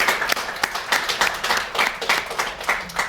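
An audience at a Student Press Freedom Day event gives a round of applause. The clapping is moderately loud and quick, with uneven bursts of many hands lasting about three seconds.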